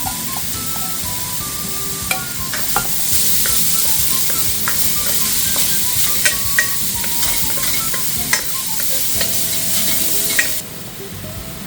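Ham and mushroom frying in a pan while cooking mapo tofu, a continuous close sizzle with scattered sharp pops and spatula scrapes that cuts off abruptly near the end.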